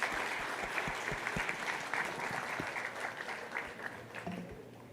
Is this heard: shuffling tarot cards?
no